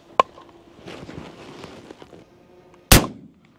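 A 12 gauge shotgun fires 3.5 inch shot shells outdoors: one sharp, loud blast near the start, a stretch of rustling noise, then a second powerful close blast with a short echoing tail.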